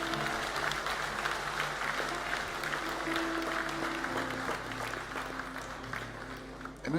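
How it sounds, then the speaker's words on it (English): Church congregation at a Palm Sunday service applauding as a steady, moderately loud wash of clapping across a large room, with organ or sustained music tones underneath throughout. "Come on, church, you can clap a lot better."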